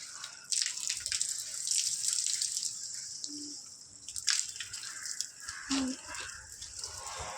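Water splashes and trickles continuously with a hissy, broadband rush, a few brief tonal blips standing out over the flow.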